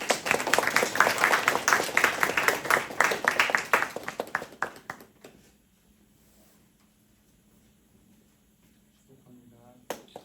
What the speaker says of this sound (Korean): 우리 세례 증서 받을 때 함께 박수와 환영해 주시면 좋겠습니다